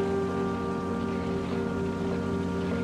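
Steady video game rain hisses evenly over a low, constant hum, with no voices.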